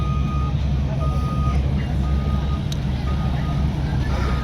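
Heavy equipment at a disaster cleanup site clearing timber and mud, a truck's reversing alarm beeping steadily at a regular rhythm over a constant low engine rumble, moderately loud and fairly close.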